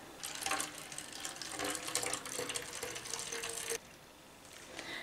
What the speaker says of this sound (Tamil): நான் இதில் வந்து ஃபுல்லாக வந்து தண்ணி வந்து கலந்துக்கிறேன்.